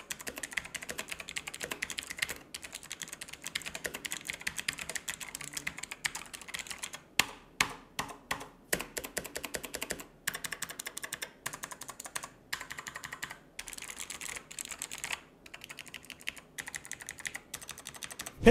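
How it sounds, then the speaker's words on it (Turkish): A SteelSeries Apex 5 hybrid mechanical gaming keyboard is typed on steadily, rapid close clicky keystrokes in bursts with brief pauses, no voices. "gelin ilk önce bir klavyemizin sesini dinleyelim"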